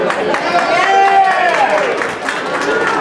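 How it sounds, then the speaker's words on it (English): Audience applause at a St. Patrick's Day Democratic Club gathering, a steady wash of clapping from a crowd with voices talking over it. "Big applause for Thomas McNally"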